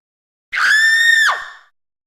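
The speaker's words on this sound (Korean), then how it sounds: "준우 방에서 들리는 여선생의 비명에 순간 서늘한 기운을 느낀 미경은 준우의 방으로 달려갔다." A woman's scream in a horror audio drama, a single loud, sustained high-pitched shriek of about a second that rises sharply and trails off, alone with no other sound.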